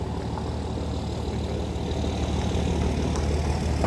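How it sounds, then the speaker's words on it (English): A loud, steady low engine rumble of a heavy truck passing close by on a small road, filling the whole stretch and growing slightly louder toward the end. "very loud truck."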